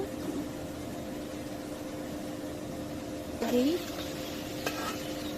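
Tomatoes and dried chilies roasting in a pan, a steady low sizzle with a steady hum underneath, then a brief louder scrape and clatter as they are turned.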